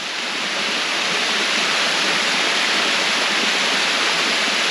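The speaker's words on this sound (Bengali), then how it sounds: "এই শব্দ শোনার জন্য বারবার ফিরে আসতে চাই ঝর্ণার কাছে।" A small waterfall at Hatu Bhanga falls in Sitakunda splashes steadily and close, a dense unbroken hiss of falling water with no voices over it.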